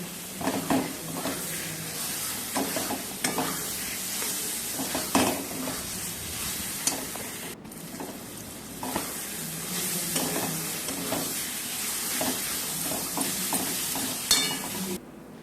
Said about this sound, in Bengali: মশলাটা প্রায় কষানো হয়ে এসছে দেখুন এবার মাংসগুলো এর মধ্যে দিয়ে দেবো